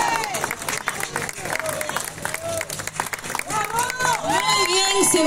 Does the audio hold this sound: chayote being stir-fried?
no